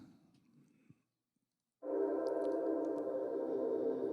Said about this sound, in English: So what I did is I added a long reverb to it.